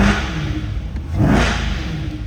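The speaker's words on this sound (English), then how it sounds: "let's give it a couple revs before we exit" A 2021 Chevrolet Corvette Z51 coupe with the NPP exhaust open revs up once, rising quickly to a loud, raspy roar before settling back, heard close and alone.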